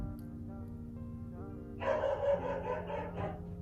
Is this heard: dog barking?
yes